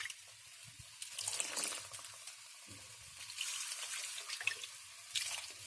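Water poured into a blender jar to rinse out leftover spice paste, heard as a soft, uneven trickle and splash with faint dripping, fairly quiet and with no talking.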